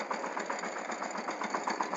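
A small tractor engine runs steadily nearby in an intercropped field, a continuous rapid putter with an even, throbbing rhythm and no talking.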